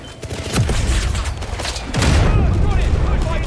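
Gunfire and a grenade blast in a combat video game, dense bursts of shots and booming impacts that swell louder partway through, close and continuous, with voices talking over the noise.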